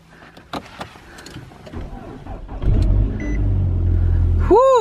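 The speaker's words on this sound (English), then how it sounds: "See if my car starts." A car cranks and struggles to start in cold winter weather, a few soft clicks and rustles before the engine catches with a rough, rising rumble that settles into a low idle, ending in a bright chime.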